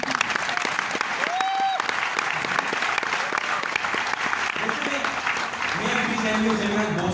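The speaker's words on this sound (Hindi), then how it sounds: "ताली बजाओ इसके लिए यार।" A seminar audience at an Amway business-building event bursts into sustained, dense clapping across the room. The applause holds steady throughout, with a few voices and a brief tonal squeal heard beneath it.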